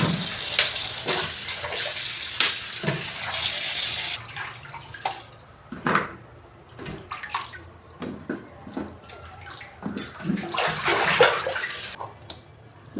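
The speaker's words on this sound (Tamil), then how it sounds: "இப்போ இதை வாஷ் பண்ணிக்கலாம். 2-3 தடவை நல்லா வாஷ் பண்ணிக்கலாம்." Carrots being washed in water for carrot halwa, with bursts of splashing and sloshing from hands moving through the water, fairly close, interrupted by brief pauses and no talking.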